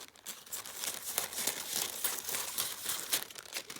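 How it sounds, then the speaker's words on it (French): Tissue paper is pulled and torn away from a sewn fabric appliqué, a close, continuous soft crinkling and tearing rustle at low volume. "Voilà, il me reste plus qu'à tirer sur mon papier de soie"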